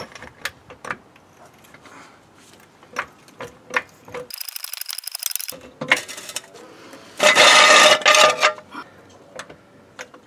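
Ratcheting clicks from a wrench tightening a lower control arm bolt on a 2012 Ford Fusion, with a run of fast close pawl clicks, scattered metallic knocks and a loud harsh burst near the end.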